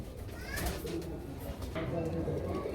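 A female Najra Kaldom pigeon coos in low, soft, repeated calls close by, with a voice speaking nearby.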